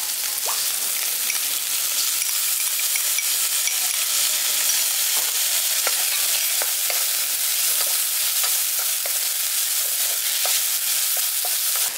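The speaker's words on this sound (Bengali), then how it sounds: "আদা রসুন বাটাটা দিয়ে দেওয়ার পর ওটাকে হালকা করে একটু ভাজা ভাজা করে নিয়েছি" Chicken frying with ginger-garlic paste in a pan as a steady crackling sizzle, with light ticks of a utensil stirring now and then, close up and without speech.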